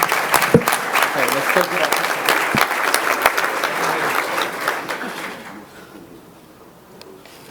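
An audience at a school board meeting gives a round of applause for a high school welding team, loud and dense at first and then fading away toward the end. Someone speaks briefly over it.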